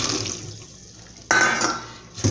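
Blanched peppers drained in a kitchen sink, where running water hisses steadily at first, fades, then surges back abruptly with a louder splashing gush and a short burst again at the end.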